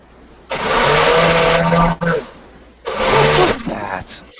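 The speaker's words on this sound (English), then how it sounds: "That's a blender. Oh, okay, perfect. Very loud blender." A very loud blender runs in two bursts, the first about a second and a half long and the second shorter after a pause, grinding harshly and close, with faint voices in the quiet gap.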